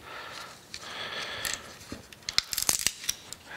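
Stainless steel foil wrapped around a heat-treated part being unwrapped, a soft rustle rising into sharp, crinkling metallic crackles and snaps in quick bursts close to the microphone.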